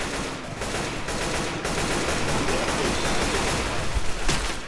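Dense, steady gunfire roars through a Left 4 Dead 2 fight, a loud unbroken wash of rapid shots and crackling bursts with no speech over it.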